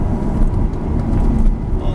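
A loud Ferrari engine roars steadily under power on the Lydden Hill race track, a dense low rumble that stays close and constant.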